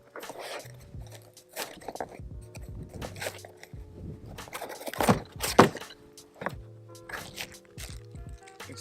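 Cardboard packaging of a Maverick 88 12-gauge pump-action shotgun being opened, with close scraping, tapping and rustling, irregular handling thuds and a sharper knock in the middle.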